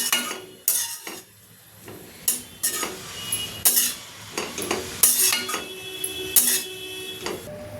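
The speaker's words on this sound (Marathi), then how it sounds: "वटाणे घालून पण असं छान परतवून घ्यायचं आहे म्हणजे मेथी आणि वटाणा पूर्णपणे एकत्र होईल" Fenugreek leaves and green peas being sautéed together in a pan, with repeated close scraping and clanking of a spatula against metal in irregular bursts over a faint sizzle.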